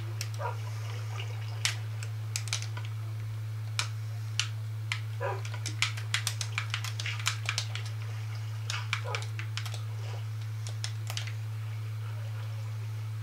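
Tamed dogs in Minecraft give short scattered barks and whimpers, faint to moderate, over a steady low hum.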